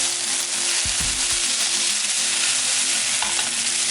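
Soy sauce cooks in a pan with tarako spaghetti, a dense loud continuous sizzle with a few low knocks of a utensil against the pan early on.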